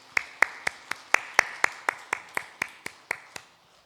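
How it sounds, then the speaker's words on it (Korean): A church congregation claps in slow unison, about fifteen evenly spaced sharp claps close by that fade out, with no talk. "슬픔의 위로의 박수를 한번 하겠습니다."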